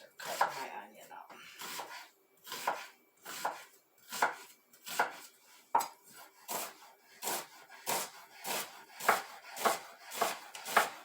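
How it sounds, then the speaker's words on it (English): A knife chops an onion on a cutting board, close rhythmic thuds repeating steadily about once per second, with a dog briefly audible in the background. "start cutting my onion up"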